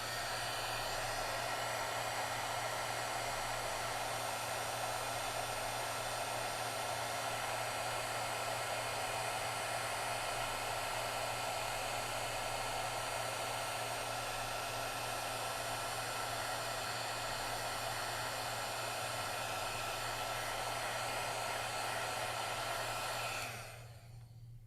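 A heat tool blasts steadily for a heat-setting step in a craft project, a loud continuous whooshing drone close to the mic that holds without pause for over twenty seconds, then cuts off abruptly at the end.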